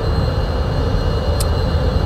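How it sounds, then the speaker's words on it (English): Su-30 jet in a flight simulator game spooling up for a demo takeoff: a steady, loud broadband engine roar with heavy low rumble, unbroken throughout, plus a brief high whine near the end. "We're going to do a typical Su-30 demo takeoff, which is going to be something like this."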